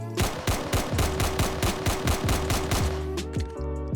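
Rapid automatic gunfire from a Roblox survival shooter rattles in a fast, even burst of sharp shots for about three seconds, followed by a brief trailing clatter.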